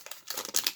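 Plastic wrapper of a Lego Ninjago card booster pack being crinkled open, a quick, close burst of crackly rustling lasting under a second.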